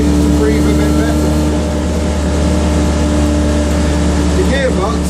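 A Citroen 2CV race car with a Weber carburetor and club camshaft drones loudly and steadily from inside the cabin while driving on a public road, and someone talks over it.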